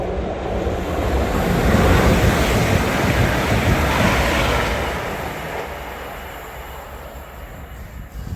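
A TransPennine Express train roars through Carnforth station at speed without stopping, a broad rushing rumble that swells over the first few seconds and then slowly fades as it moves away.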